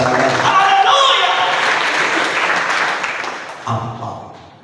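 Applause from a church congregation during a sermon, a dense, steady patter of many clapping hands filling the space and thinning out toward the end.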